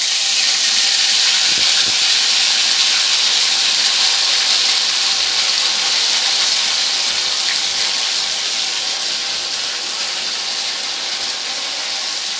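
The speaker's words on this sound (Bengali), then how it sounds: "এবারে ততক্ষণ পর্যন্ত ভেজে নেব যতক্ষণে না এই বাটা মশলাটার কাঁচা গন্ধটা চলে যাচ্ছে" Ground spice paste frying in hot oil for Bengali bhoger khichuri, a loud, continuous broadband hiss that stays steady throughout and fades slightly toward the end.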